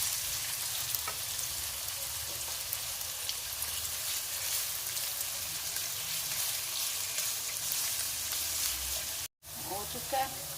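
Onions softening gently in a hot pan for karela gosht, a steady close crackling sizzle running throughout, with a brief dropout near the end followed by a few louder pops.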